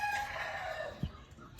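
Rooster crowing in a backyard coop shared with guinea fowl, one short nearby call that trails off, no talking.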